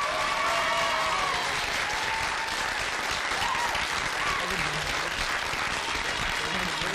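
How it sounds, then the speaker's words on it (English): An audience at a 1991 school quiz quarter final applauds steadily for several seconds, a dense, even clapping that fills the room without pause. "Give them a round of applause."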